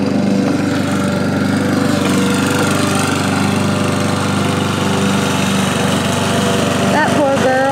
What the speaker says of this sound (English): as you can hear, little bruh's mowing again